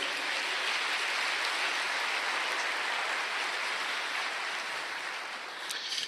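A church congregation applauds during a sermon, a steady, dense wash of many hands clapping that fills the room without pause and tapers slightly at the very end.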